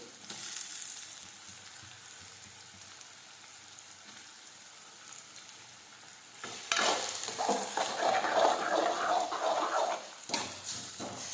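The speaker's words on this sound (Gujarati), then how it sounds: "હવે આ રીતે આપણે સાતળી દઈશું।" Chopped tomatoes being sautéed in a pan with grated ginger for eggplant bharta. A quiet sizzle gives way to a loud burst of frying and stirring as the tomatoes go in, with scraping strokes up close.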